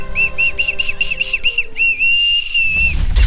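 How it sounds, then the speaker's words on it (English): A shrill plastic Oscar Mayer wiener toy whistle blown in a quick series of short warbling toots, then one long sustained note, loud and close. "Or even a simple Oscar Mayer wiener whistle."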